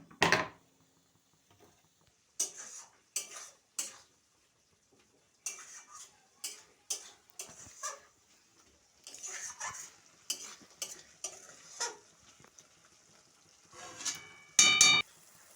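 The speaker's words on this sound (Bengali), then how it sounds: "এই ভিডিওটা দেখতে পাচ্ছেন ভালোভাবে খুব সুন্দরভাবে কষা হচ্ছে" Snails are stirred and fried down in a pan. Bursts of spatula scraping and clatter arrive in irregular clusters over a faint sizzle, separated by near-quiet gaps, with a louder clank at the end.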